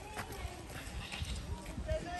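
Light hoofbeats of a miniature horse clip-clop along at a walking pace, fairly faint, with a person's voice talking softly over them.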